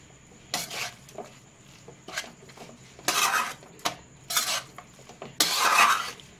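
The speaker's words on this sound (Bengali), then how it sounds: "দিয়ে এবার হালকা একটু নাড়াচাড়া করে নিচ্ছি।" A utensil scrapes and clinks against a pan while fried spices are stirred into banana flower curry made with chickpeas and lentil dumplings, in a few short, separate bursts of scraping between quieter moments.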